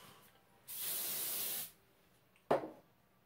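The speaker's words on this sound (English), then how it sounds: "So I'm gonna spray it and see what happens." A single sustained hairspray burst hisses onto hair for about a second, then stops; a short scraping rustle follows. No talking.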